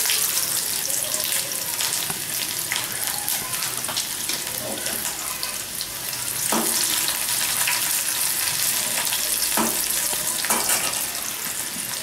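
Onions frying in hot oil with fennel seeds for a Chettinad lentil-ball curry, giving a steady, close sizzle with occasional spoon scrapes and clinks throughout, with no talking.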